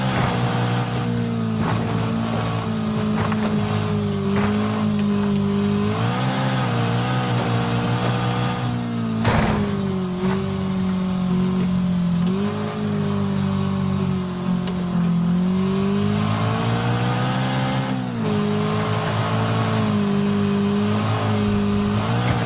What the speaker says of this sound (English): Back to driving my car for a very long time.